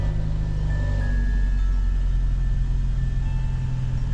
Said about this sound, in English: So I'm just going to turn the ignition on. Wait a couple of seconds.